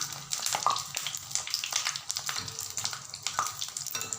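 Mysore bonda balls frying in hot oil, turned over and over, with a steady close sizzle and bubbling, scattered scraping stirs and soft clinks running through the whole stretch.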